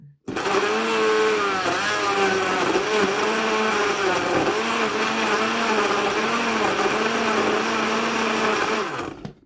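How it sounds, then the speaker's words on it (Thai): A blender whirs loudly and steadily for about nine seconds as it purees washed carrots with bottled orange juice. The motor's pitch wavers slightly as the load shifts, then cuts off abruptly. "แล้วเราก็เอาน้ำส้มใส่ลงไป แล้วเราก็ปั่น"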